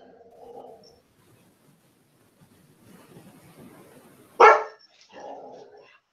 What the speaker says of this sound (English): Dog on the camera.